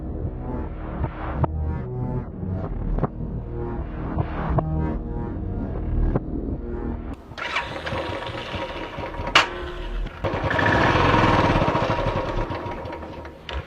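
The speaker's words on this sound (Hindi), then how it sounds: "आपकी मोटरसाइकिल स्टार्ट हो गई है" A repaired motorcycle engine starts and runs: scattered knocks and clatter give way to a rough, rumbling idle partway through, which then swells into a louder rev near the end.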